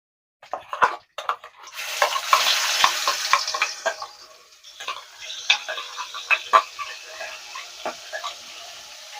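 Chopped tomato fries with whole cloves, cinnamon and small cardamom in a hot pan, giving a close sizzling hiss broken by sharp clicks and scrapes of stirring.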